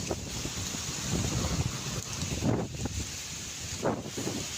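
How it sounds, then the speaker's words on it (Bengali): Strong, gusty wind buffeting the microphone outdoors on a rainy day, a steady roar with louder surges rising and falling, with no voices. "এই যে দেখেন অস্থির বাতাস"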